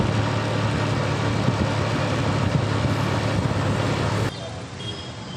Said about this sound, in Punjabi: ਕਿੰਨਾ ਗੱਡਖਾਨਾ ਤੇ ਕਿੰਨੇ ਮੋਟਰਸਾਈਕਲ ਕਿੰਨੇ ਹੋਰ ਲੋਕ ਤੁਰੇ ਫਿਰਦੇ ਆ